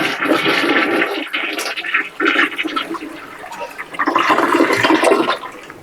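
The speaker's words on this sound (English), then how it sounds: "So I am going to flush the toilet once, just to make sure everything is flowing." A freshly augered, unclogged toilet is flushed once, a loud close rush and swirl of water draining away, then trailing off as the bowl empties.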